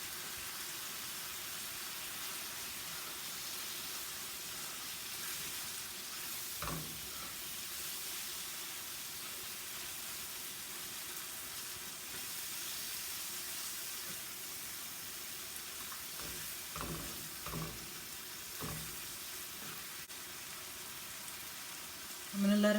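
Halim ingredients and chopped cilantro cooking in a pan, a steady hissing sizzle like steam that runs throughout, with a few faint knocks in the background.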